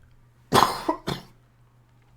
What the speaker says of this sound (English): I've been coughing all the time.